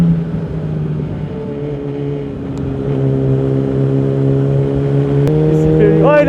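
A Yamaha R1 motorcycle engine from 2007, heard from a following rider on a winding road, drones steadily and rises in pitch as the throttle opens, with a sharp climb at the end under wind noise.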